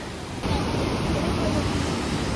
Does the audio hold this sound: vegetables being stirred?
no